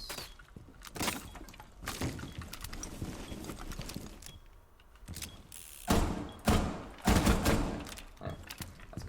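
Walls being broken apart in Rainbow Six Siege, irregular bursts of crashing, splintering impacts and thuds, loud and close, with quieter stretches in between and no talking.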